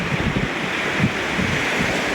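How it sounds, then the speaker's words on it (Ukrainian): Waves of the Adriatic Sea wash onto a deserted beach at Falconara Marittima, a steady broad surf roar mixed with wind buffeting the microphone, with no voices. "Узбережжя Адріатичного моря."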